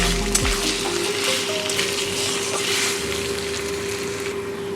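Chicken curry with ginger and garlic paste frying in a pan, a steady close sizzle with soft stirring scrapes throughout.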